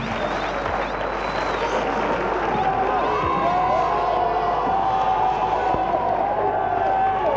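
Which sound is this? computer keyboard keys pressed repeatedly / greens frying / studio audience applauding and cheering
studio audience applauding and cheering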